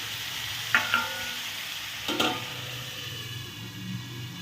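Food being stirred in a pan with a spatula, a couple of sharp scrapes and knocks against the metal over a low, steady cooking hiss, close and fairly quiet, without talking.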